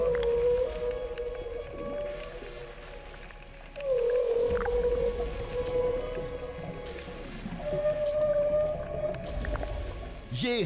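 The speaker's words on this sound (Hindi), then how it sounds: "ये हम्पबैक व्हेल थी जो अपने बच्चे के साथ समुद्र के चक्कर लगा रही थी।" Humpback whale calls underwater, with a mother swimming alongside her calf in the sea: long tonal moans and sweeping wails repeat across the whole stretch, loud and close over a low rumbling water background.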